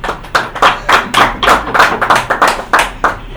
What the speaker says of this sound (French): Applaudissez alors pour TBC